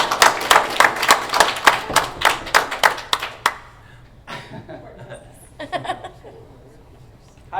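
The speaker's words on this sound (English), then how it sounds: "So give us an applause for Rebecca Malinowski." Small group at a library network quarterly meeting clapping for an introduced librarian: about a dozen sharp, separate claps over three seconds, then quieter murmuring and a few scattered chuckles and voices.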